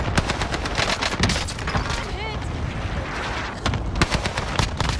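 Dense bursts of automatic gunfire in the Call of Duty Warzone video game, loud, close and rapid-fire, with a short lull partway through before the shooting picks up again.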